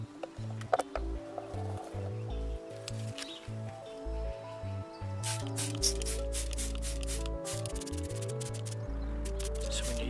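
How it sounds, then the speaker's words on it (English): Electronic cleaner sprays onto the circuit boards of a Uniden Madison CB radio under restoration, in short hissing bursts and a longer steady spray, faint and close, over a low electrical hum. "So start off with the electronic cleaner on the boards."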